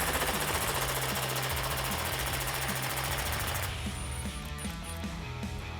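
A steady loud mechanical rattle runs throughout, a power tool with an 8mm socket backing a flange bolt out of a truck fender while installing Roush fender flares on a 2015-2017 pickup, easing in pitch partway through.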